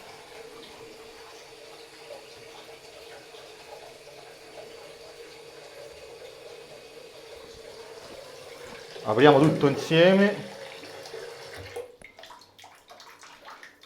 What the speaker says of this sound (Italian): adesso l'acqua scorre regolarmente